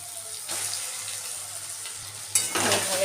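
Mashed boiled potato filling for egg devils stirred in a hot pan, a soft steady sizzle with scraping stirs and a sharper burst of frying near the end, close up with no speech.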